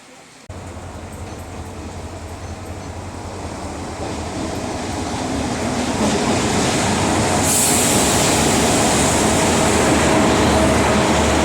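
A train rolls into a station on the Dogu Express route, its rumble and wheel noise building steadily louder, with a brief squeal of wheels near the end.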